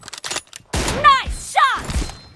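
M24 sniper rifle fire in PUBG Mobile, a heavy close shot with a booming thud, layered with game voice lines spoken over it.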